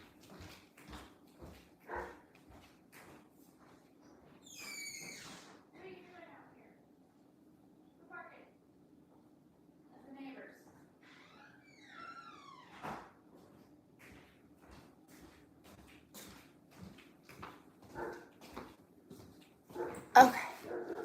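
A dog barks repeatedly in short bursts, with several sharp barks and whimpers scattered over a steady low hum.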